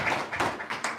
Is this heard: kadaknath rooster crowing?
no